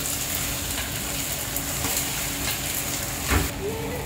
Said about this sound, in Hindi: ये डाल दी दोस्तों भिंडी, फिर जब तक ये थोड़ी लाइट में ब्राउन नहीं हो जाएगी, पक जाएगी